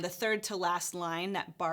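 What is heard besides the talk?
No everyday noises stand out.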